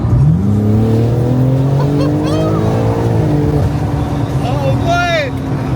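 BMW G82 M4 on a normal off-the-shelf tune accelerating hard, its engine climbing through rising revs with quick gear changes and shifts in pitch, loud and close throughout.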